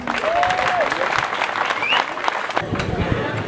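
A crowd at an outdoor trail-race prize ceremony applauds in a continuous, moderately loud patter of hands, with a few voices and a brief whistle-like call mixed in.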